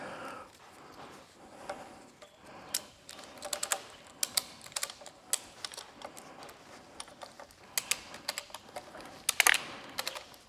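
A Ducati Desert X rear shock spring adjuster being turned gives a run of sharp, close mechanical clicks, irregular and quick, over a low background hum.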